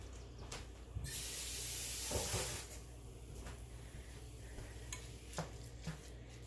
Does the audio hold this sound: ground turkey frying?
yes